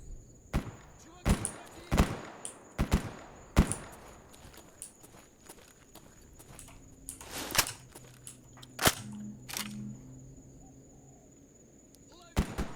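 Gunfire in the Escape From Pripyat video game: a string of sharp, irregular shots, some close together and others spaced apart, mixed with footsteps and quieter stretches between.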